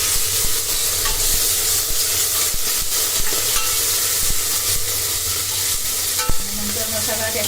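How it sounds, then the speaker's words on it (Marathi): Ginger-garlic paste hitting a hot tempering of fried onion for Malvani mutton, a loud steady sizzle with stirring scrapes and a sharp clack near the end, no talking. "आता आल्या लसणाची पेस्ट टाकणार"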